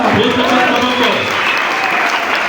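Church congregation applauding during a worship service, dense loud sustained clapping filling the room, with voices mixed in beneath it.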